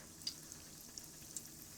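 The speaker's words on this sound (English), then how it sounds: "you should be getting some sizzles around the edges of your dough." Biscuit dough fries in hot oil with a steady, soft sizzle, broken by a few faint pops and crackles.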